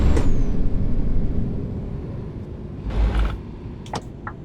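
A heavy truck in Euro Truck Simulator 2 gives loud rumbling engine noise, then a short hiss of its air brakes releasing near the middle, followed by a few brief mechanical clicks.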